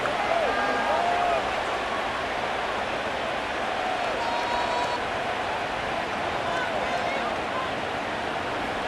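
A stadium crowd in the Madden NFL 25 football video game, during a Steelers versus Eagles match, gives a steady, broad roar of cheering that holds at an even level throughout.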